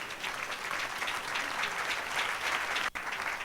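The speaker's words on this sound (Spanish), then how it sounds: "Dale un aplauso al Señor" A church congregation applauding, a dense steady wash of clapping from many hands that keeps going at an even level with one sharp knock near the end.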